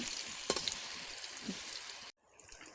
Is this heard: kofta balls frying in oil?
yes